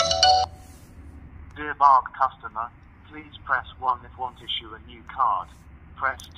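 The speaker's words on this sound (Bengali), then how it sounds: "কিছুক্ষণের মধ্যে একটি কল আসবে। এখন কলটি রিসিভ করতে হবে।" A phone rings with an incoming automated verification call during a card application, heard as repeated short electronic ring bursts at moderate volume over a low background hum, with brief tonal chirps spread across the clip.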